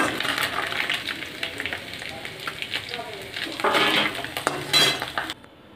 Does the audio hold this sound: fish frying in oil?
yes